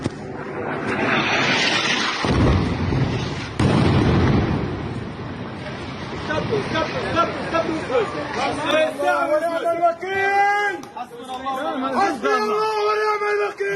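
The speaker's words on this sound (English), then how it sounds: "Those are just good bomb drops." Bomb drops exploding in an Israeli military strike on Hamas, a pair of heavy booming blasts early on followed by crowd noise and excited voices talking over the aftermath.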